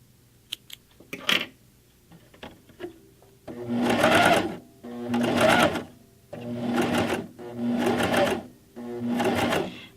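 A sewing machine stitches a jacket seam: a few light clicks and taps, then five steady bursts of rapid mechanical stitching, each about a second long, separated by brief pauses, close and clear.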